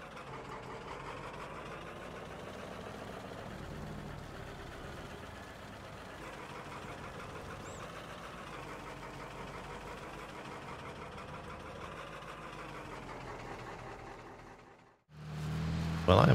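A tractor engine idles steadily in Farming Simulator 22, set on the Elk Mountain, Wyoming map, with a continuous mid-pitched drone that holds for most of the stretch, breaks off briefly near the end and then returns louder.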